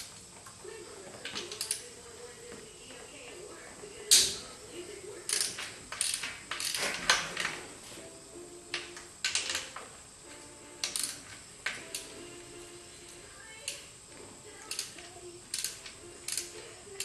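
A hand ratchet works on radiator fan shroud bolts, giving quick bursts of sharp metallic clicks and clacks in irregular clusters, close and fairly quiet, with no voices.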